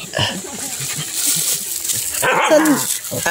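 A dog barks and yelps several times in quick, uneven bursts, close by, mixed with some background chatter.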